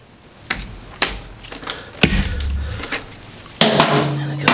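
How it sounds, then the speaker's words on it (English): A ratchet fitted with a 13 mm socket works loose the drain bolt on a 2023 KTM TBI two-stroke dirt bike, giving a series of sharp, close clicks and knocks spaced unevenly, with a brief metallic rattle near the end. "I've got a 13 millimeter socket on a ratchet."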